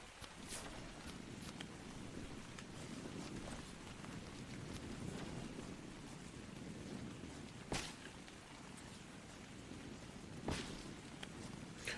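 Rain falls steadily throughout in the survival game Ark: Survival Evolved, a faint, continuous hiss with occasional sharper spatters of drops.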